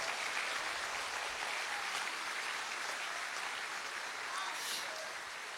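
Congregation at a church service applauding: continuous, dense clapping that holds steady for several seconds, moderately distant and fairly soft.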